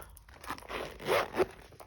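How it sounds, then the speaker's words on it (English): A short zipper pull on a Dior Saddle double pouch, a quick rasping zip in a couple of bursts, close up and fairly loud. "And let's zipper it up."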